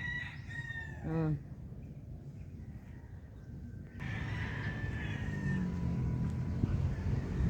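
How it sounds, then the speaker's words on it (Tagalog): Chickens cluck and a rooster crows nearby outdoors on a farm, with faint talking and background noise. "Yan, mga manok."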